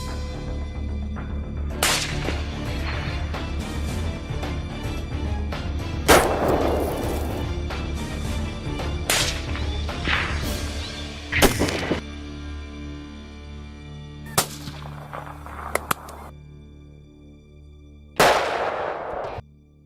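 Hunters fire guns while shooting wildcats: several sharp, loud cracks ring out at irregular intervals, each with a short echoing tail, over a low, steady background rumble.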